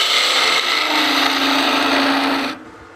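A 3/8 spindle gouge makes a bevel-riding slicing cut on wood spinning on a lathe, giving a loud, steady, rasping shear for about two and a half seconds before the tool lifts off and the sound drops to a quieter hum.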